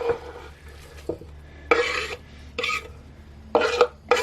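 Drained pasta and spaghetti squash tossed together in a pot, giving several bursts of wet, rasping stirring and scraping separated by short quiet gaps.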